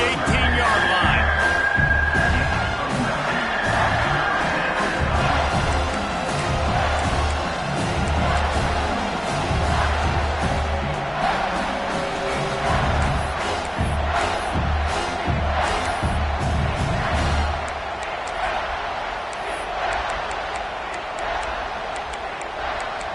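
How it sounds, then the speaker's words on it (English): Stadium crowd in a college football video game roars and cheers continuously on a third down, a loud sustained wall of crowd noise with whoops, while a commentator talks over it. "Third down, and this crowd is bringing down the house."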